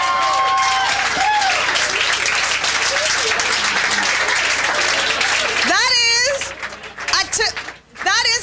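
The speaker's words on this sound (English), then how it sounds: "Give him a round of applause." A comedy club open-mic crowd applauds, steady clapping mixed with loud talk and whooping voices, then a shrill vocal burst and a brief dip near the end.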